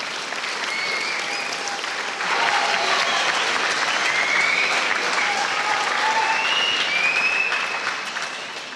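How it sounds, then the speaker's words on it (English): A school auditorium audience at a cadet public speaking contest claps in sustained, dense applause, swelling slightly midway and fading toward the end, with a few faint cheers mixed in. "Let's give another round of applause for our outstanding high school speakers."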